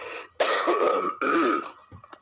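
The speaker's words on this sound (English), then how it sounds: "Excuse my coughing." Two rough bursts of coughing and throat clearing close to the microphone, separated by a short pause, with no talking.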